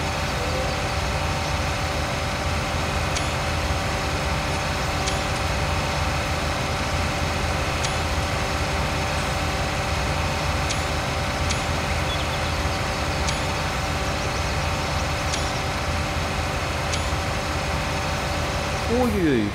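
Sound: tractor engines idling in Farming Simulator 19 video game

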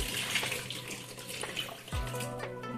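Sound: water in bowl while washing mutton

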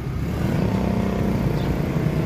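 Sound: Yamaha Jupiter motorcycle engine running

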